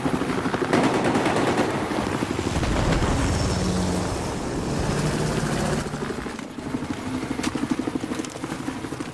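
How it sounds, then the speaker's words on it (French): An enemy helicopter in Battlefield 4 Conquest battle, with a steady rotor and engine drone under continuous machine-gun fire and gunfire throughout. "J'ai repéré un hélico ennemi."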